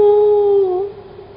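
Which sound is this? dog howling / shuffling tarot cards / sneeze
dog howling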